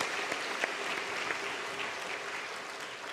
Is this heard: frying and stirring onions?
no